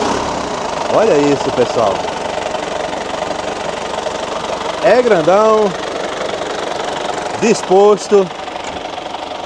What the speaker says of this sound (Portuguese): um amigo vai dar partida aqui na D20 para a gente escutar ela funcionando